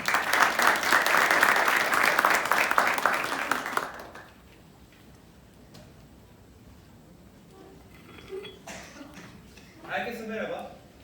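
An audience at a startup pitching event claps loudly for about four seconds as the first presenter is called up, then the room falls quiet apart from some faint shuffling and a few brief voices near the end.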